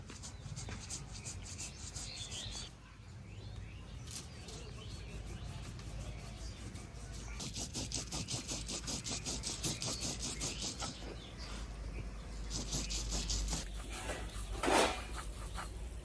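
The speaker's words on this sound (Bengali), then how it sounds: "এবার বেটে নেবো পোস্ত কাঁচা লঙ্কা।" Poppy seeds and green chillies are ground into a paste for a crab poppy-seed curry, giving a close, steady rubbing scrape with rapid back-and-forth strokes that grow more rhythmic midway.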